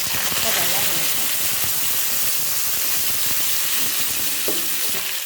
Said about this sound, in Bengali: ফুলকপিটা ভাজতে বসিয়ে দিয়ে